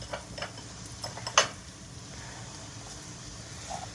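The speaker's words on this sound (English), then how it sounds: "we're going to stir that up nice and smooth into that butter" Dark brown sugar being stirred into butter in a bowl, a soft scraping swirl with a few light clinks of the utensil against the dish, one sharper tap near the middle, fairly quiet and close.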